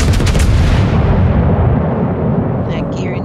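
Naval guns in a video game fire on a ship's superstructure, producing a heavy, loud, continuous booming rumble that barely lets up and holds steady to the end.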